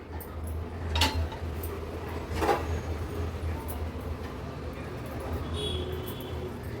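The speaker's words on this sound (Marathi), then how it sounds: "7 ते 8 मिनिटं झाले, झाकण काढून बघूया आपण" A metal lid is lifted off a pot of simmering tarli (sardine) fish curry, with a sharp clink near the start, another a moment later, then a quiet low background.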